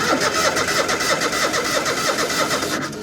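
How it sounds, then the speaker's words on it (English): A 1970s skid steer engine cranking over, a loud, steady, rhythmic churning of the starter turning the engine that continues throughout before fading slightly at the end. "Let's crank it over a little."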